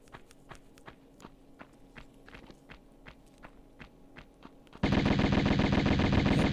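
Guns firing in the Tomb Raider video game: a rapid run of sharp shots spaced through the opening seconds over a steady background, then a sudden loud, dense burst of continuous fire near the end.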